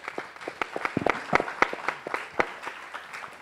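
Enthusiastic applause from a conference summit audience after a panel, a dense patter of many hands clapping steadily throughout.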